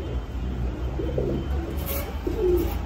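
Fancy red Lahori pigeon of an imported bloodline cooing in a few soft, low, rounded phrases over a steady background hum, fairly close and moderately quiet.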